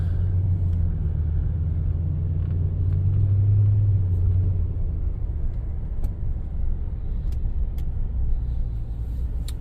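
A car on a test drive gives a steady low engine and road rumble from inside the cabin, with faint ticks and small bumps now and then.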